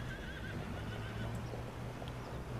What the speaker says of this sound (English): don't laugh at me, you stupid horses